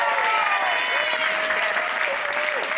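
An audience at a Martin Luther King Jr. celebration applauds a step team, a steady, full round of clapping with a voice carrying faintly over it.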